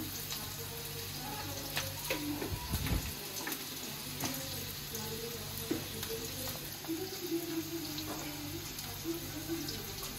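Spices cooked with turmeric, salt and chili powder, with vegetables added, sizzle and hiss steadily in a pan throughout, with a brief clatter of stirring partway in and a faint voice in the background.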